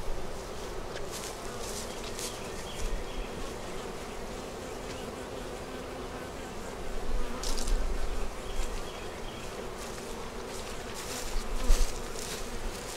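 Honey bees drone steadily around an open hive frame in a deep eight-frame box, a dense continuous buzz close by with occasional louder swells as individual bees pass, and no voices.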